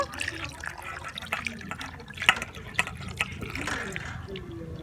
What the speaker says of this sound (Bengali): এখানে একটা ছাঁকুনি নিয়েছি ছাঁকুনির মধ্যে এইভাবে ছেঁকে নেব ভালো করে ঠান্ডা জল দিয়ে ধুয়ে নেব